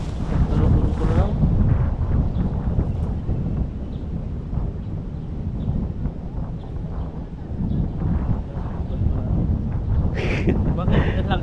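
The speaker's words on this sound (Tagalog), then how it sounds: "Ang lakas ng hangin." Strong wind buffets the microphone beside a river during tilapia fishing, a continuous loud rumbling roar that persists throughout, with muffled voices underneath.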